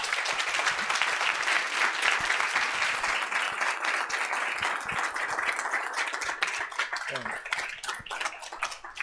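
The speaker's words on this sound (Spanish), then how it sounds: "realmente pediría otro aplauso para Jesús." Audience applause for a speaker at a talk on the screwworm, dense sustained clapping from a room full of people that stays loud throughout and thins slightly toward the end.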